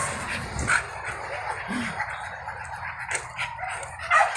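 A dog out for a run gives a couple of short barks and whimpers amid steady outdoor noise, with a rooster-like call and faint voices in the background.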